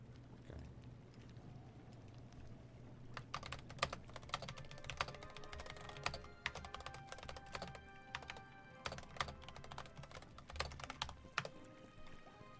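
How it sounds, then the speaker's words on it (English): Keystrokes clatter on a computer keyboard in irregular bursts, starting a few seconds in and continuing fairly close, with a low steady hum beneath and no talking. "My typing."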